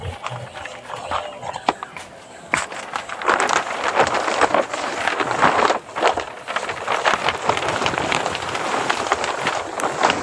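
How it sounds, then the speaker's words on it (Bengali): Heavy rain pelting a tarpaulin held down with bricks, a dense, loud, continuous patter with gusty flapping and surges, with no talking over it. "এত বৃষ্টি হচ্ছে"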